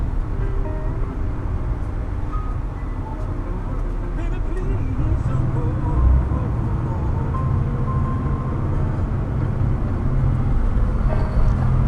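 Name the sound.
Toyota Land Cruiser HJ61V 12HT 4.0L turbo diesel engine, interior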